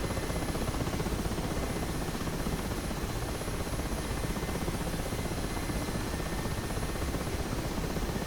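Mi-8 helicopter in flight in the DCS flight game, a steady droning rotor and engine hum that stays even and moderately loud throughout, with no talk.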